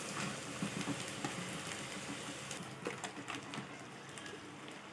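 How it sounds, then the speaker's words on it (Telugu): Pasta snacks fry in hot oil with a faint, continuous sizzle and soft crackling spatters that stay steady and fairly quiet throughout. "దీనిలోనే కొంచెం క్రిస్పీగా వచ్చేంత వరకు మనం వేయించుకోవాలి"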